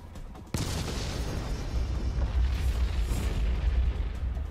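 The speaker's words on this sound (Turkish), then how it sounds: "Volkanik püskürme 9 saat sürüyor." Mount St. Helens erupting produces a sudden deep boom followed by a sustained, roaring rumble of heavy low-frequency noise that continues loud and unbroken.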